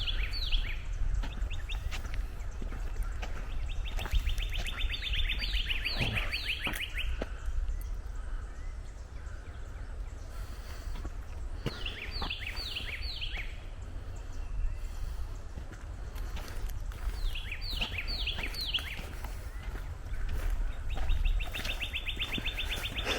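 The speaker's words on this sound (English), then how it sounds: "we're being quiet just so we can hear the birds" Birds chirp and trill in repeated bursts over a steady outdoor hum in a park in springtime, with some bird calls near and others further off.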